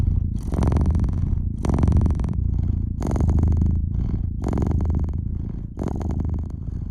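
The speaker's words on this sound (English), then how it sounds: "The purring cat is for me the most comforting thing." Close, continuous cat purring that rises and falls with each breath, about five rumbling cycles in a row.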